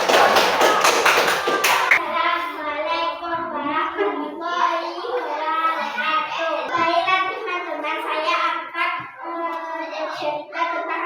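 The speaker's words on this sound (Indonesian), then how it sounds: "Tepuk tangan untuk kelompok 2." Children in a fourth-grade classroom burst into a short round of clapping, a dense flurry of hand claps that fades after about two seconds, followed by children's voices talking and calling out.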